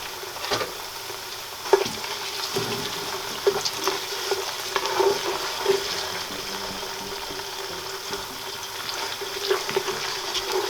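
Tomato puree frying in oil for Nigerian jollof rice, a soft continuous sizzle with scattered bubbling and an occasional utensil knock, fairly quiet and steady with no voices.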